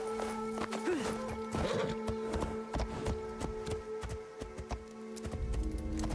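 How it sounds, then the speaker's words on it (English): A horse in the Assassin's Creed Shadows game approaching with a string of hollow clip-clop hoofbeats and a short whinny near the start, set against a steady in-game musical drone. "My horse! Oh, wait, I hear you."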